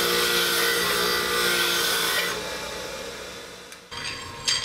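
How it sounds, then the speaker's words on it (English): A wire wheel on a bench grinder buffs rust and grime off a metal transmission part, a loud bright rasping hiss that fades to a softer whir as the part comes away, then brief scraping contact again. "I'm going to take it on my wire wheel on my bench grinder and buff all that crap"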